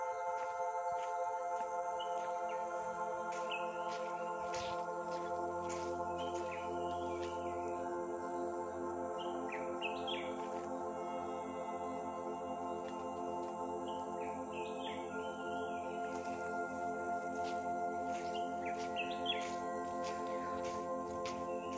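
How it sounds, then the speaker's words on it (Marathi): Birds chirp during an afternoon in a Konkan village, Phanasgaon. Scattered, fairly distant calls repeat over a steady, droning background hum, with no talk. "दुपारचा पक्ष्यांचा आवाज"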